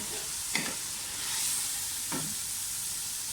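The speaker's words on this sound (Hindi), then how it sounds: "हरी मिर्ची डाल दें कटी हुई।" Chopped green chillies dropped into frying masala for a lokki gosht curry, with two soft stirring scrapes over a steady low sizzle, close and quiet, no voices.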